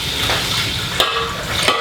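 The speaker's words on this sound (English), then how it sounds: "I'm gonna go ahead and drain this into my little pot here" Hot wort from a Maibock beer brew draining through a hose into a small pot, a steady close rushing pour with faint clinks of metal on the pot.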